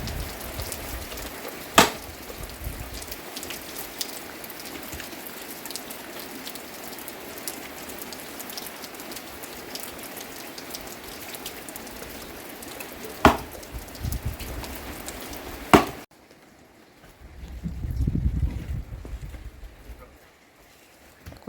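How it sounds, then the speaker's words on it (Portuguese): Steady rain falling outdoors at a São João bonfire night with a large cart, a dense continuous patter on surfaces with a few sharp knocks, then it cuts off abruptly to quiet near the end as people talk. "É chuva."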